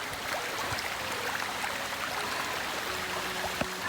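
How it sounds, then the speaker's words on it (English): A small waterfall on a hiking trail trickles and splashes steadily, a soft continuous rush of water with no one talking. "It's a little tiny waterfall."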